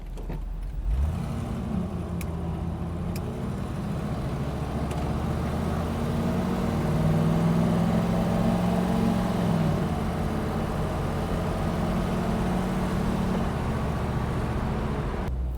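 A patinaed old Mercedes with no plates drives through a neighborhood, its engine a steady, fairly close low rumble that swells slightly mid-way and holds for about fifteen seconds with no talking.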